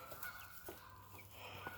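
Faint chickens cluck softly nearby, a few short calls over a steady low background hum.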